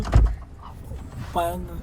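A car door thumps shut once near the start, a short low impact close by, followed by a small mechanical rattle while people talk inside the car.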